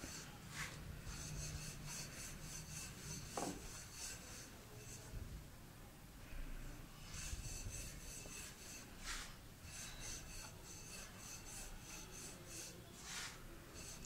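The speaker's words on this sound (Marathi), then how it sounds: "आपल्याला आता याचा पराठा लाटायचा आहे" A rolling pin works a thick green pea–stuffed paratha on a board, a soft steady rubbing and rasping that rises and falls with each pass, close and fairly quiet, with no talk.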